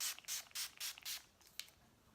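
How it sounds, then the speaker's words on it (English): Several quick hissing spritzes from a bottle of makeup setting spray in a loose rhythm, close and fairly soft, followed by a light tap. "I'm gonna use the Urban Decay Deslick makeup setting spray"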